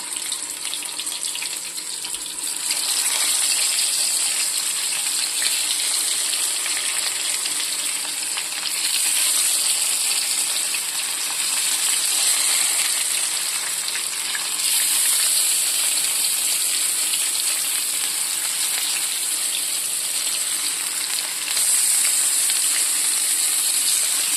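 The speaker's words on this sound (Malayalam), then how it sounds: "എണ്ണ ചൂടായി കഴിയുമ്പോൾ ഓരോന്നോരോന്നോരോന്ന് വെച്ച് കൊടുക്കാം." Banana flower and oats cutlets fry in hot oil, giving a constant loud, close hiss of sizzling that holds for the whole stretch, with small surges in intensity and no voices.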